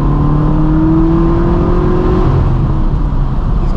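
An 800-horsepower BMW M6 Gran Coupe with a manual gearbox and loud exhaust accelerates hard, its engine note climbing steadily and droning loud and close from inside the car.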